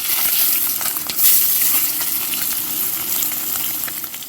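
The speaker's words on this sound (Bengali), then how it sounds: "তো এখানে আমি ভাজতে তুলে দিয়েছি।" Bhola river fish frying in hot oil in a wok, a loud, steady sizzle with crackling spatter throughout and a brief louder flare, no talk.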